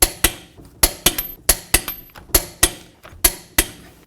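Sharp, loud metallic clicks sound in an irregular series of about a dozen as a torque wrench tightens lug nuts to 140 foot-pounds on a 2007-2014 Cadillac Escalade wheel, each snap ringing briefly, close and alone.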